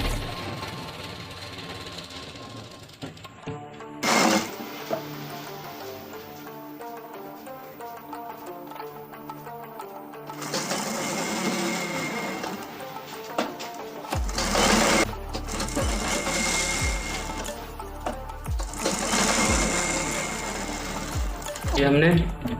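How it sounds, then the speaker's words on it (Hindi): A sewing machine stitches gharara fabric, its needle running in fast mechanical bursts with pauses between runs, close up, while someone talks over parts of it. "इस तरीके से खींच के सिलाई लगाएं"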